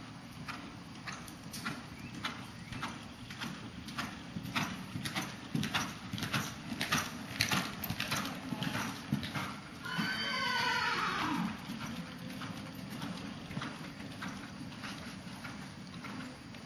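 A horse canters on the left lead, its hoofbeats a steady rhythmic clip-clop close by, with a loud whinny rising in the middle; no one talks.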